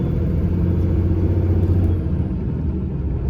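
An HGV lorry strains up a steep hill on an Irish backroad with its wheels spinning, giving a loud, deep, steady engine rumble that eases slightly toward the end.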